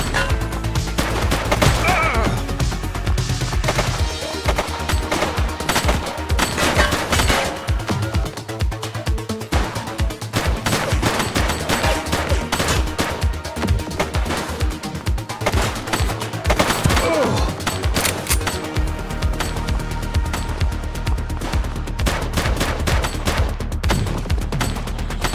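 Dense, loud gunfire in the police game The Precinct, with continuous rapid automatic bursts and overlapping shots filling the whole stretch and almost no letup.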